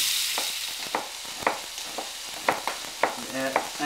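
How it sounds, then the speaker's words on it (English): Small bacon cubes fry toward crispness, a bright steady sizzle punctuated by regular clicking stirs of a utensil against the pan, close and moderately loud. "I like to cut it into small cubes and fry it up till it's nice and crispy."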